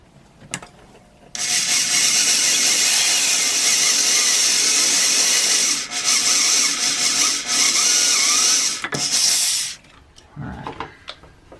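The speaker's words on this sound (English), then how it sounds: "go ahead and drill the other hole" A power drill whirs steadily at close range for several seconds, with brief dips in pitch as it bores through, then winds down.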